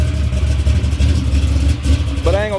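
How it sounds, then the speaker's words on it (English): A big car called Dolo, riding on 26-inch rims, idles as it warms up, its engine a loud, close, steady low rumble with a slight pulse throughout. "Got big Dolo fired up. Trying to let it get a little bit of heat in the motor."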